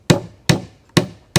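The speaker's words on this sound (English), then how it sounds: "Now what I do is put the nails down through here." Hammer driving nails into a wooden British National beehive brood box, four sharp, evenly spaced strikes, close and distinct, with short decays and quiet gaps between blows.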